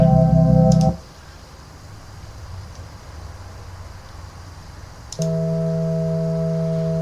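A Yamaha DX7 patch played through Dexed on a Raspberry Pi with no effects: a bright, sustained harmonic synth tone, loud and dry, cutting off into near silence before a second held note enters and rings steadily to the end.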